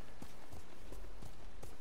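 Horse hooves clopping as a rider mounts up in the video game Ghost of Tsushima; a few soft, evenly spaced hoof thuds, fairly faint, over a constant game ambience.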